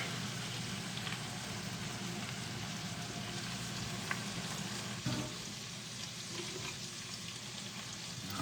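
Onions and button mushrooms fry in a pan with a steady, broadband sizzle, near and fairly quiet, with a few faint clicks and one soft knock partway through.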